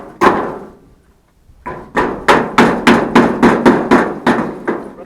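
Hammers strike a hard surface, first with one blow and then, after a pause, in a quick run of about ten sharp, evenly spaced knocks, loud and close with no talk.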